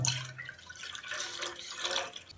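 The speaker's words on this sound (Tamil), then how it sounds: "இந்த பவுல்லையும் இப்போது அடுப்பில் ஒரு பாத்திரத்தை வச்சு அதில் ஒரு 250 ml பால் ஊற்றிக்கலாம்" Milk, about 250 ml, poured into a pan on the stove for crème caramel pudding; a close, steady liquid splash and trickle with brief drips, no talking.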